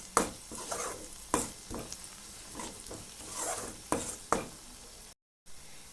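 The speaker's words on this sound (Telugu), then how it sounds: "పసుపు, అల్లం వెల్లుల్లి పేస్ట్, పసుపు వేసుకొని ఒక్క నిమిషం ఇలా కలుపుతూ" Turmeric and ginger-garlic paste stirred in a hot frying pan: a soft sizzle runs throughout with irregular scraping strokes of the spoon, close and quiet, cut by a brief dropout near the end.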